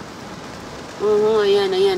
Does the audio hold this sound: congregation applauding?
no